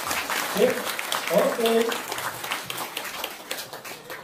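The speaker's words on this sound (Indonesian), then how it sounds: "Kita tepuk tangan yuk, bareng-bareng" Audience in a hall clapping together, a scattered burst of applause with a voice speaking over it near the start.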